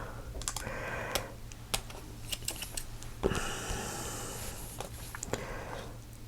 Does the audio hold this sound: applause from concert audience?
no